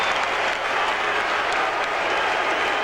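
Fenway Park crowd at a Yankees–Red Sox game applauding and cheering steadily, a dense, loud wash of clapping and crowd noise from a large stadium audience as fans rise to their feet.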